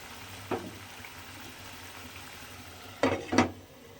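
Pieces of spinach dhoka, a Bengali vegetarian lentil cake, cook covered in a pan with a low, steady sizzle, broken by a single clatter early on and two sharper knocks near the end.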